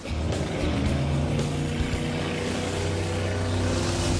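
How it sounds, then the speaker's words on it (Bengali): Three cars spin in drifting circles on water, producing a loud, steady engine drone with sustained low tonal hum and churning wash that carry on unbroken without speech. "ওরা তো জলের মধ্যে ড্রিফট করছে, পুরো ডোনাটের মতো লাগছে।"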